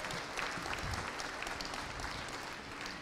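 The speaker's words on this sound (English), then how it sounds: "let's give all the Wakaya breeders a really big round of applause for their achievements in this lineup here" Sustained audience applause for alpaca breeders at a national alpaca show, a dense, steady clatter of many hands clapping throughout without a break.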